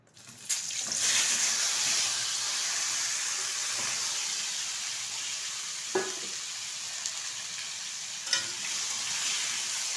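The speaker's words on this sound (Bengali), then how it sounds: "এখন এই তেলের মধ্যে দিয়ে দিচ্ছি কেটে রাখা ঝিঙে আর আলু" Sliced ridge gourd and potato drop into hot oil and fry with a loud, steady hiss and sizzle that lasts throughout, broken only by a few soft clinks of a utensil.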